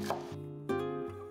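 A knife minces a red onion (shallot) on a cutting board, giving a couple of quick, close knocks over quiet background music.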